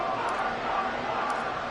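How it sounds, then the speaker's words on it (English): A football stadium crowd roars in a steady, dense wash of cheering after a game-tying extra point in the fourth quarter of an Eagles versus Patriots game, loud and continuous throughout. "This crowd alive again."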